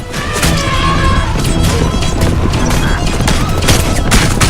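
Rapid shooting during a chariot chase in Assassin's Creed Origins: dense, loud bursts of impacts and cracks over rolling wheels and galloping, continuous chaotic action without talking.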